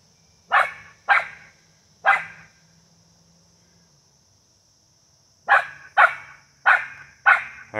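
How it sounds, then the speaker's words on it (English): A dog barks in two bursts: three sharp barks, a pause of a few seconds, then four more in quick succession, fairly close and loud. "Bark."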